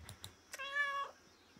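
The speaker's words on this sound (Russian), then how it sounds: "Любопытная мяу почему-то появилась далеко от Риты." A cat in the video game Kentucky Route Zero gives one short, clear meow, fairly quiet and alone, after a few faint taps.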